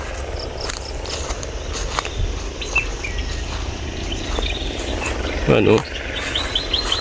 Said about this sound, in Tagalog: sarap ng huni ng ibon, no, na ating naririnig ngayon.